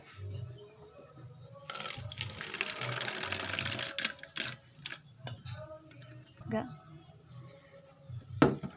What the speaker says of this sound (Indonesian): Prosedur kerjanya, tuang air hangat